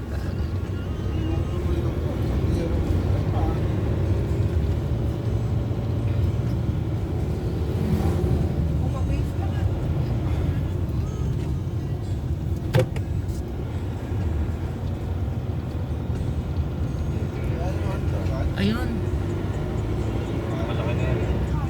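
Traffic rumble heard from inside a car on a congested road under widening works on the way to Naic, a steady low drone throughout with voices talking over it.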